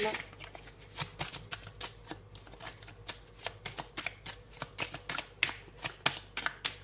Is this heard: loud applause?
no